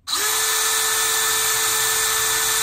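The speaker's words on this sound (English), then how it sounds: "I'm going to mark that off, drill my hole" A power drill bores a hole while marking out a sign for a building, spinning up abruptly and holding a steady, loud high-pitched whine without pause, close by and alone.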